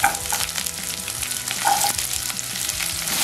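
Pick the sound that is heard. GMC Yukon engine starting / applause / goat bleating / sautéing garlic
sautéing garlic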